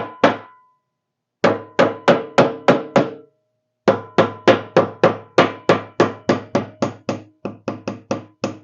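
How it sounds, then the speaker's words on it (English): Repeated metallic hammer taps on a part of a Massey Ferguson MF8 mowing deck being loosened, sharp strikes in quick bursts of six to twelve with short pauses between, close and loud, no talking. "we'll give this a little tap around"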